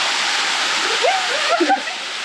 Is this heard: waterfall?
yes